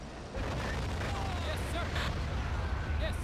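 Explosions and artillery fire in a World War II style war video game, a dense rumbling barrage of blasts with sharp bursts, continuous and loud throughout.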